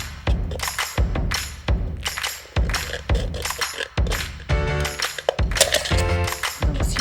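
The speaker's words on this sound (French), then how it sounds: "Et maintenant, on va donc venir couper des lanières." Scissors snip strips from an aluminium can, a run of sharp metallic crunching cuts in an uneven rhythm, close and fairly loud with no talking.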